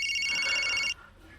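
A telephone rings with a steady, bright electronic trill for about a second, fairly close, then cuts off into quiet room tone.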